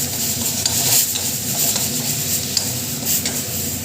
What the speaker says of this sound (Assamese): অলপমান সময় ভাজিম